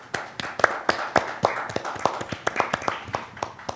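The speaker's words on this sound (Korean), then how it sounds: "박수 부탁드립니다" A small audience at a budget policy symposium panel discussion gives scattered applause: a few distinct, close hand claps in an uneven rhythm, sparse rather than a full ovation, with no talking.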